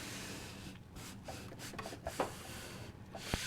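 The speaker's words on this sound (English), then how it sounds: "I'm going to use my speedball bearing to rub this down from the back side" Speedball baren rubbing a decoupage napkin down from the back, a faint, close, steady papery rubbing with a few soft scrapes, no talk.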